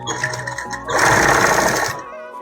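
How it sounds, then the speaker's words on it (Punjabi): A sewing machine running a long basting stitch on a ladies' kameez neckline, with a loud, close whirring burst of about a second after brief intermittent stitching and a speaking voice. "ਮਸ਼ੀਨ ਤੇ ਵੱਡਾ ਵਹਾ ਕਰਕੇ ਇਹਨੂੰ ਕੱਚਾ ਕਰ ਦੇਣਾ"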